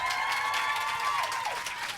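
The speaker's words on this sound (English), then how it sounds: "Please welcome on stage with a big round of applause" Applause and cheering from a live audience greeting the cast of The Musketeers as they walk on stage, a dense wash of clapping with a faint tonal sound gliding underneath.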